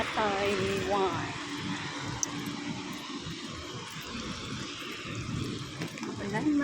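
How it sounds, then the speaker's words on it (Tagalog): Heavy nighttime rain in Taoyuan, Taiwan pours in a steady, dense roar with splashing water, while a person talks over it throughout. "Maulan."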